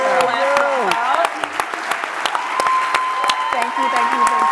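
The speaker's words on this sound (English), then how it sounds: "Let's stand up and give Bill another round of applause for Last Dropout." Standing audience applause at a fireside chat, a soft wash of clapping under overlapping voices and tonal sounds, with a few sharper claps cutting through.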